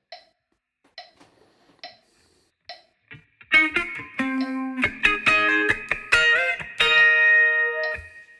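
An electric guitar plays a bar of a song: a few soft, sparse taps give way to a run of clear, ringing plucked notes and a sustained double stop, played close and alone.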